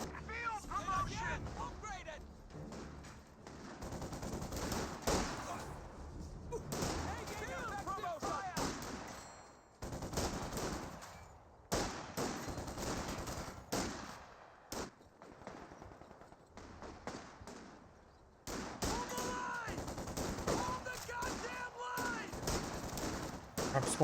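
Rifle squads and Volksgrenadiers exchange fire in Company of Heroes 2, with bursts of machine-gun and rifle fire and booming explosions that come and go across the battle, while a voice talks over the fighting.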